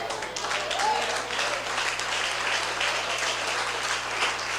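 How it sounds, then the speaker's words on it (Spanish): A church congregation applauds during a Spanish-language sermon, a steady wash of clapping that fills the room at moderate volume, with voices mixed into the crowd noise. "Esos aplausos no me están gustando en esta mañana."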